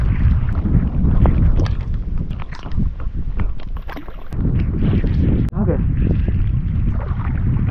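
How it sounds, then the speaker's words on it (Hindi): Strong wind roars steadily across the microphone, a broad rushing buffet with a few brief voices and water sounds mixed in. "तेज हवा चल रही है।"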